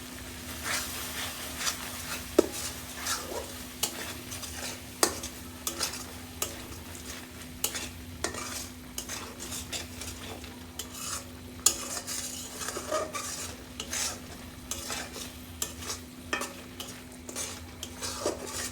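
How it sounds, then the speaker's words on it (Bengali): Spices such as turmeric, ginger-garlic paste, cinnamon, green cardamom and cloves sautéing in a pan for prawn malai curry: continuous low sizzle with frequent light spatula taps and scrapes, close and fairly quiet, with a faint steady hum and no talking. "কিছুক্ষণ কষে নিব।"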